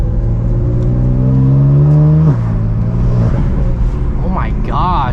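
BMW F80 M3 engine fitted with a new aftermarket exhaust, heard on a drive from a shop parking lot: a loud, steady revving drone rises in pitch and then drops, with a short rising whine near the end, all close by.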